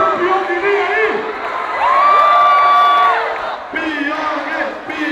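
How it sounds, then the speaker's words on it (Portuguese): A live crowd at a contest final cheers for a contestant with loud whoops and shouts that swell in the middle, while voices call out over the noise. "Tem torcida pro Pyong Lee aí?"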